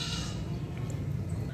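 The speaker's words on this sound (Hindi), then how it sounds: "और ये वाला बकरा देखें मेरा भाई माशाल्लाह।" A goat at a livestock sale gives a single short bleat, faint against steady outdoor background noise and low rumble.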